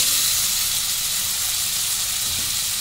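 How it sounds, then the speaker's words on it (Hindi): Pumpkin pieces, dropped into hot oil with a pinch of asafoetida, set off a loud, dense hiss of frying that stays constant and close for a few seconds, with no talking. "उसके साथ ही मैं डाल दूंगी ये कद्दू"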